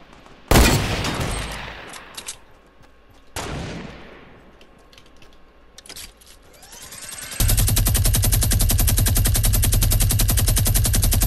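A minigun fires in a video game, with a couple of heavy gunfire bursts followed by a loud, sustained rapid-fire roar that runs to the end, up close and alone.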